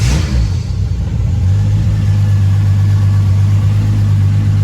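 Toyota 2JZ engine fitted with Kelford cams idles in a garage with the bonnet up, a steady low rumble with a tappety edge, loud and close, after a brief rev at the start.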